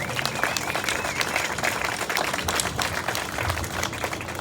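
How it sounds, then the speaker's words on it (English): Steady applause from an outdoor crowd at a dedication ceremony for the I-74 pedestrian pathway between Illinois and Iowa, dense clapping holding at an even level throughout. "Let's give them all a round of applause."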